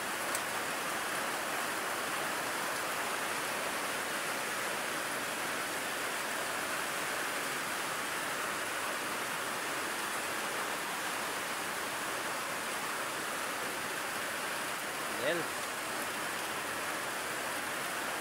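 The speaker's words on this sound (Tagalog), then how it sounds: "Ulan talaga." Heavy rain pours down steadily, a dense unbroken hiss with no voices, and one brief faint sound near the end.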